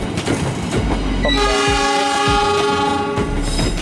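A train pulls into Klaten station in Indonesia, sounding a loud sustained horn over the rumble and clatter of its wheels close by.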